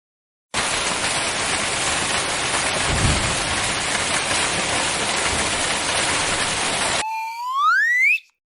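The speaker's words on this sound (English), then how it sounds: "hailstorm," Hailstorm sound effect: a dense, loud, steady roar of pounding rain and hail lasting about six and a half seconds, with a low thunder rumble partway through, then a brief cartoonish rising boing at the end.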